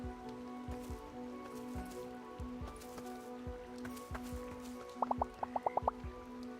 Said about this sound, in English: Somehow it feels cozy to sit here and listen to the raindrops on the umbrella.